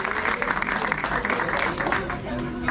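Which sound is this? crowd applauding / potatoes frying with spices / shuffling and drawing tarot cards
crowd applauding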